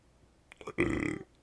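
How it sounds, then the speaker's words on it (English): A burp from a man playing Euro Truck Simulator 2: a couple of short throaty clicks lead into a loud, buzzing belch of about half a second, close to the microphone. "That was a burp and a half."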